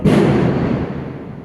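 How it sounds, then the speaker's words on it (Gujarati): A single loud, booming burst that rumbles and fades away over about a second, like a firecracker exploding. "જોયું ફટાકડા ફૂટે ભમ ભમ"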